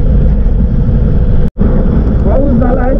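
A Yamaha Aerox scooter engine drones with heavy wind and road rumble while riding, loud and close, with a brief dropout midway and a rider's voice faintly under the noise.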